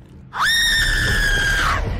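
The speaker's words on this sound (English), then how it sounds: "Oh my god, she's screaming." A woman's long, piercing scream rings out in the horror video game Observer, a single sustained shriek close and loud over a low ambient drone.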